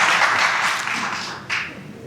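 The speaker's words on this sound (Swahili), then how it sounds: "Okay, naomba tujipigie makofi" An audience breaks into brief applause at a human-connection talk, a dense wash of clapping that fades over about two seconds with one sharper burst near the end.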